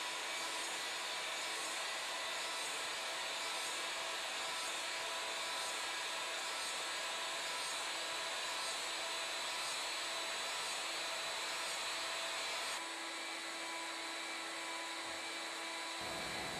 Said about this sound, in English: we get a beautiful finish when using the mill as a CNC lathe